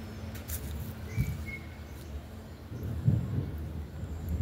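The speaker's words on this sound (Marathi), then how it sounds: "खूप गरजते." Thunder rumbling over a residential colony during a storm, with two low, distant rolling booms rising and fading against a soft, steady outdoor background.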